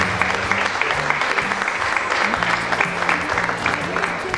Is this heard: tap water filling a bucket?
no